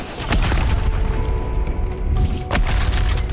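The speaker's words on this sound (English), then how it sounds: "Oh, grenade!" A grenade blows up in the real-time strategy game Wartorn with deep, loud booms, a strong one near the start and another about two seconds later, over low rumbling battle noise.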